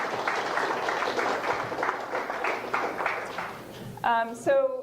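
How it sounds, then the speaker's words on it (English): Audience applause at a community meeting on environmental health, a steady patter of many hands clapping at moderate loudness that tapers off near the end as a voice begins speaking. "So everybody give yourself a round of applause right now"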